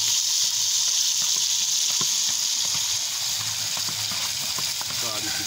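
Onion, thyme and pepper frying in a skillet, a steady loud sizzle throughout with faint stirring clicks underneath.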